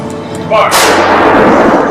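A rifle volley at a terrorism victims' remembrance ceremony in Pennsylvania cracks out loud and close on command, one sharp report followed by a long rolling echo.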